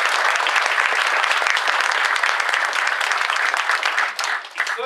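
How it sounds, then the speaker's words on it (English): A large audience at a formal address gives a round of applause, a dense, sustained clatter of many hands that stays loud before thinning slightly near the end. "I think we should give, in absentia, Sir Lawrence Street a round of applause."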